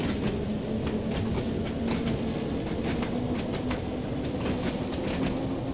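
A train on the Island Line in Train Sim World 2 (Rivet Games) rolls steadily with a continuous loud rumble, an engine hum and a repeated clickety-clack of wheels over rail joints.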